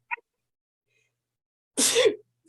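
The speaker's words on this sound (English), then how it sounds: "I'm gonna sneeze." A short burst of a single sneeze, close and sharp, after a brief faint vocal sound and a stretch of silence.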